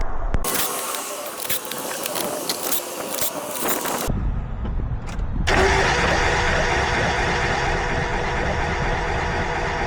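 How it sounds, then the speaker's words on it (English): A Mazda Miata engine cranks with its spark plugs removed, a loud mechanical whirring that stops, then resumes as a sustained steady churn after a short pause, close and unaccompanied by talk. "then we'll go to crank it so it spits the fuel out"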